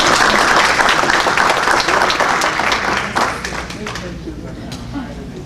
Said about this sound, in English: Let's give Norma Sutton another round of applause.